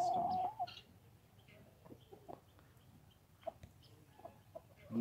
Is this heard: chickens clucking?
yes